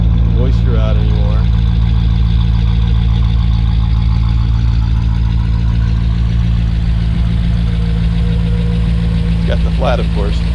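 A 1959 Ford Galaxie 500 engine idling steadily after being restarted following ten years unused, a loud, close, continuous low rumble with people talking over it at times.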